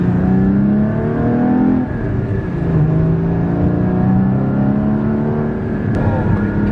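A Porsche Cayman GT4 engine pulls hard toward 6,000 RPM on a canyon road, heard from inside the car as a loud, steady rising drone that swells and dips with the revs.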